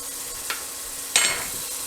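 Two tablespoons of butter melt in a pan, giving a soft steady sizzle with two brief crackling spits under it. No voice is heard.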